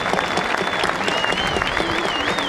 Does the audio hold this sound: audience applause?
yes